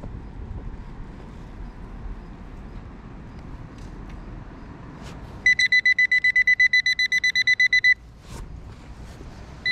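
A metal detector sweeping over a buried target in a backyard gives a quick run of sharp, evenly pulsed electronic beeps partway through, loud and close over low outdoor rumble.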